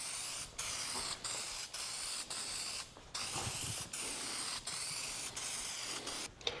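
An aerosol can sprays light coats of paint onto a plastic RV side mirror in a series of short, evenly spaced bursts, close and hissing, with brief pauses between passes.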